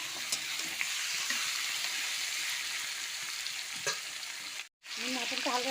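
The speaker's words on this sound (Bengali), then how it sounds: "পেঁয়াজের মধ্যে আমি মটনটা দিয়ে দেবো। মটনটা একটু ভেজে ভেজে নেবো।" Mutton pieces frying with onions, garlic and tomato in hot oil, a steady loud sizzle with occasional spatula scrapes and stirring clicks, briefly cutting out near the end before resuming.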